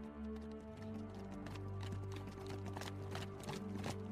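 Horse hooves clip-clop at a steady walking pace, faint and distant beneath a sustained musical drone in a guided meditation soundscape.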